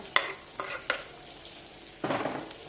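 Chopped onion and curry leaves with cumin sautéing in a hot pan on a home stove: a faint steady sizzle broken by a few short, brisk scraping bursts of stirring, the last one longer.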